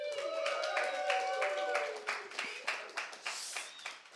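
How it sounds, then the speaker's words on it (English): An audience at a coding bootcamp demo day breaks into applause, a burst of scattered claps that grows steadier and rhythmic toward the end, fairly faint and heard alone. "we can give them a big round of applause already"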